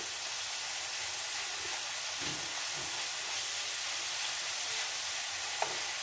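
Prawns sizzle in a pan over a raised flame, a soft continuous hiss with faint stirring scrapes and one small click, no voices over it.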